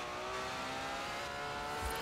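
Ferrari 599 engine in the Forza Horizon 4 racing game, a steady close droning note held throughout without letup, with no voices present.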